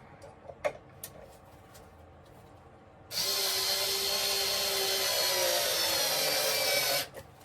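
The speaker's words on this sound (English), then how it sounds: "I'll just drive the screws home." After a few light taps, a power screwdriver whines steadily for about four seconds, close and loud, driving screws into a wooden deck on a model railway layout, then cuts off abruptly.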